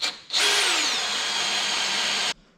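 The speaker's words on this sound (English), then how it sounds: "now we're going to go and punch out the hole with a 5/16 drill bit" A power drill with a 5/16 bit spins up and bores a hole for about two seconds with a high, even whine, close and loud, then cuts off abruptly.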